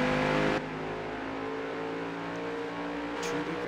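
Race car engines drone steadily at an ARL race at Gateway Motor Speedway, mid-distance and continuous with a sustained revving tone, opening with a brief louder swell, and no voices.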